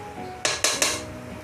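A metal lid is set onto a cooking pot of pork belly simmering in water, producing three quick, close metallic clanks in succession against a quiet kitchen background.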